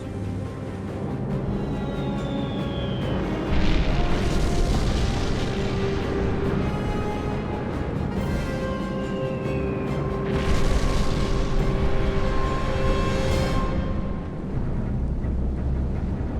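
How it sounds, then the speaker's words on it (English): WWII bombers, Mitchells, Marauders and Fortresses, bombing a monastery: a continuous heavy rumble with droning engine tones, broken by two louder blasts a few seconds apart. "The US Air Force came over and destroyed the monastery"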